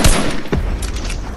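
A rocket launched in Fortnite: a loud, close thump at launch, then a rushing whoosh that trails off within about a second.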